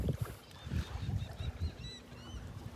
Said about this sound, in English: I'm just kind of following this little flock of white ibises along the beach here.